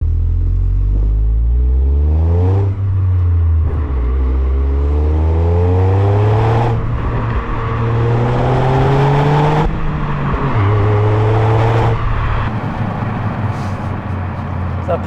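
A Toyota GR Yaris engine revs hard through rising gear pulls, loud and close, with brief dips between shifts and a low mechanical clatter underneath.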